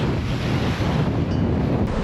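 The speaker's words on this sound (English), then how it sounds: "Sailing downwind, wind and waves come from behind." Heavy-weather sailing downwind with wind and waves coming from behind: a steady, loud roar of wind buffeting the microphone over continuous surf and rushing water, with no voices.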